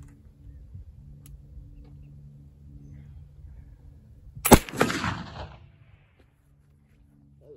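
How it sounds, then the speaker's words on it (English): A single sharp, loud black powder gunshot using 4F (FFFFg) powder, a hard crack followed by a short rumbling decay outdoors, set against a low background hum. "shot number two with the 4F"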